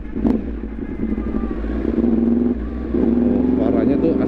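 A Yamaha R1 60th Anniversary sport bike with a crossplane engine idles and revs, its rumbling note swelling at intervals and staying steady and close under continuous talking.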